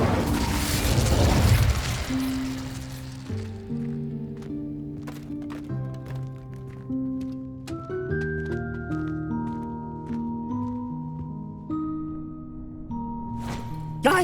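An Incendio fire spell blast in Hogwarts Legacy, a loud whooshing burst of fire at the very start that fades out under sustained orchestral game music.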